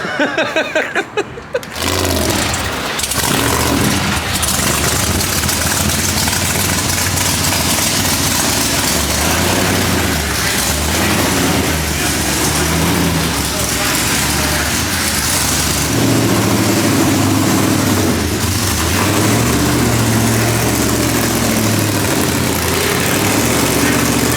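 Twin-turbo VW Bug engine running on a dyno, a loud sustained roar that starts after a brief rough burst, then holds steady with a deep idle rumble and shifting engine tone throughout.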